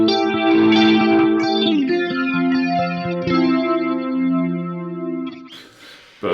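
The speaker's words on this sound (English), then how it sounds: "my favourite setting for this pedal, as you've already heard, is with the chorus up a bit more and the flanger at midday" Electric guitar through an EHX Stereo Electric Mistress, chorus turned up and flanger at midday, plays a few ringing chords with a lush, wavering shimmer, up close and loud, ending abruptly.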